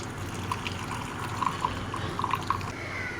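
Masala milk tea poured from a pot into a cup, soft continuous liquid stream with small dripping plinks, faint and close, no talking.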